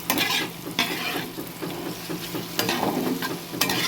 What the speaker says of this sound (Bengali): এই যে আলু সব কষিয়ে নিলাম